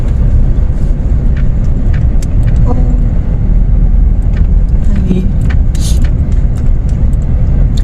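A car rolling slowly into temple grounds looking for parking, a loud steady engine and road rumble heard from inside with faint clicks and rattles, and a voice briefly in the background.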